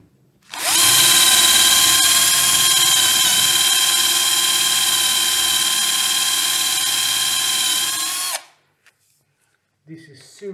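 A hammer drill whines loudly and steadily for about eight seconds while boring into a tough wooden joist, then stops abruptly, leaving a few faint clicks afterward.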